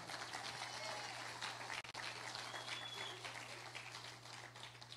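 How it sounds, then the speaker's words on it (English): Church congregation clapping for a guest during a sermon, a faint, steady spread of applause with a low hum underneath, tapering slightly toward the end. "Y'all give him a hand clap."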